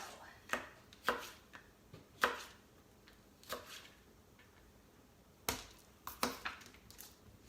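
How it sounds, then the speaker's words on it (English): A knife slices a pepper into thin strips on a colour-coded cutting mat. Crisp, separate cuts land irregularly, some in quick pairs, close up and fairly faint against a quiet room. "we'll slice that into some thinner strips, and then the pepper will be ready to go in our salad rolls as well"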